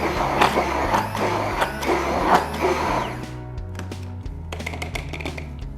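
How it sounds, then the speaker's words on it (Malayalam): A hand blender whirs as it blends chicken marinade ingredients in its jar for Afghani chicken, a steady motor hum with shifting pitch in short bursts, louder at first and then easing into lighter, clattering pulses near the end. "അടുത്തതായി ഹാൻഡ് ബ്ലെൻഡറിന്റെ ജാറിലേക്ക് ഇട്ട എല്ലാ ഐറ്റംസും നമുക്ക് നന്നായിട്ടൊന്ന് ബ്ലെൻഡ് ചെയ്തെടുക്കാം"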